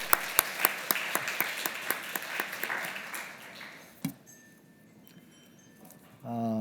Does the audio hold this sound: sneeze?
no